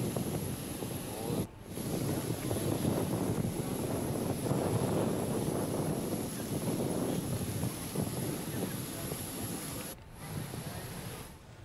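Indonesian presidential airplane heard as a steady, loud broadband jet engine roar with wind buffeting across the whole stretch, briefly cutting out twice.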